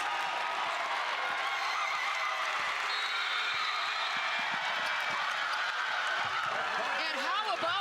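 A basketball crowd roars and cheers after Portland's women's team beats BYU, a dense, steady wash of noise lasting throughout with a commentator talking over it.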